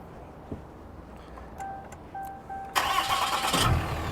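A Cummins diesel truck at a dealer auction: a few soft dashboard chime tones sound, then the engine cranks and fires abruptly, settling into a loud, steady, close idle.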